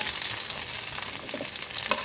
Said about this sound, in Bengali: তো পাঁচফোড়ন দিয়ে একটু নাড়াচাড়া করবো